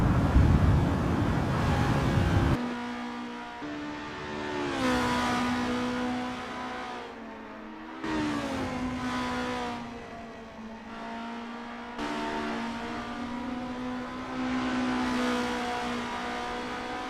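Formula race car in a racing video game on a practice out lap at Zandvoort, engine droning and shifting pitch through gear changes, rising and falling as it accelerates and eases off, heard alone and close.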